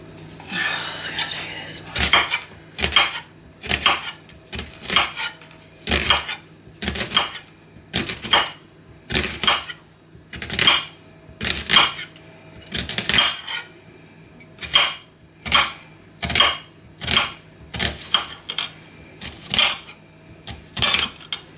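Food is tipped into a pan, followed by a long run of sharp, rhythmic clatters as a utensil knocks repeatedly against the pan, close and loud, with a few words spoken in between.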